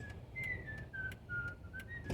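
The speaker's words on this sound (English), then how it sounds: "I have always loved to whistle since I was little" Solo human whistling, a clear high melody of short sustained notes rising and falling, played close and alone.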